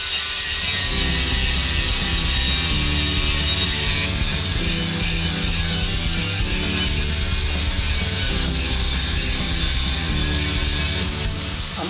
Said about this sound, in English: Using an angle grinder, I'm going to clean up my rough cuts from the hacksaw.